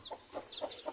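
A brooding hen gives soft, repeated clucks in a brief close burst, about four short calls in steady rhythm, with no talk over them.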